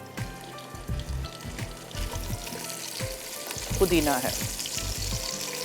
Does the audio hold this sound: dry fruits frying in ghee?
yes